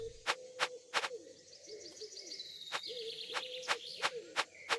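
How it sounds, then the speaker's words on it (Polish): Owl hooting in a deer-hunting video game, a series of regular hoots with brief gaps between them, faint and distant, with soft bird chirps behind them. "Sowa?"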